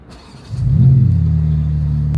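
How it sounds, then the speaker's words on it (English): A car engine turns over and catches, settling into a loud, steady low rumble that holds after the start, heard up close during a late-night drive in Dubai. "Let's go ahead and hear that start up one more time."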